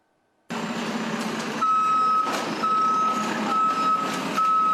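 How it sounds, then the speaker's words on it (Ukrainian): Municipal service trucks work in a city street after a shelling attack, a steady engine rumble topped by loud, repeated reversing beeps at an even rhythm, close and clear without speech. "звідусіль чути, як працює комунальна техніка"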